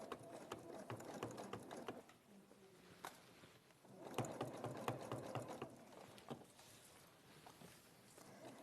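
A sewing machine runs in short stitching bursts close to the edge of a bag, its needle mechanism ticking and whirring quietly with pauses between runs.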